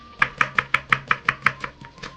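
A knife chops a whole onion on a board in about ten crisp, evenly spaced strokes. The cuts are close, fairly loud and clear, with no talking.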